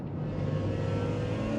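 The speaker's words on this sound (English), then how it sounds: "It's really coming through into the cabin," A BMW E46 M3 CSL replica's exhaust drones steadily inside the cabin with the rear bench removed, a loud, low, continuous engine rumble at constant revs.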